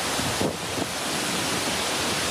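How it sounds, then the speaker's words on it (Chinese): Hurricane Francine's howling wind and storm surge pound the Louisiana coast, a loud, steady roaring rush with no voices and a brief surge of force early on. "仔细听这个呼啸声，真的是有如上天传来的怒吼。"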